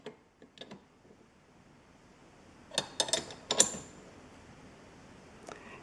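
A hand wrench slowly turns a bolt on a Ford Model A distributor, giving faint, scattered metallic clicks and ratcheting ticks in a quiet garage, with a short cluster of sharper clicks in the middle.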